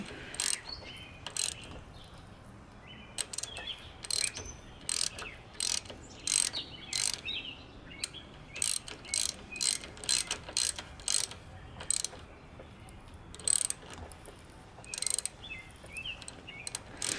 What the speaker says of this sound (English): Cut more thread. Back it off. Cut more thread.